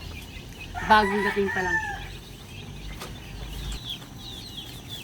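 Hens cluck and a rooster crows once, loud and close, in a backyard where young chicks are kept, then fainter clucks and chirps against outdoor ambience. A voice talks briefly over the birds.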